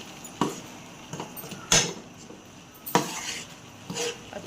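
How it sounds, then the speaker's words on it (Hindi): Semolina and gram flour are stirred and roasted in a pan, heard as a few sharp spatula scrapes and knocks against the metal at irregular intervals over quiet background. "अच्छे से मिक्स करेंगे और सूजी को भी भूनेंगे।"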